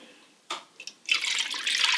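Beef broth is poured into a sour cream sauce for a keto corned beef and cabbage casserole, a short splash followed by a steady, bright liquid stream close by.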